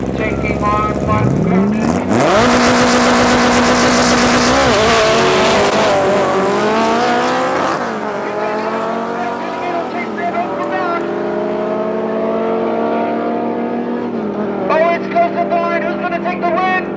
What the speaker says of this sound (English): V8 rear wheel drive automatic on nitros going up against the front wheel drive all motor Opel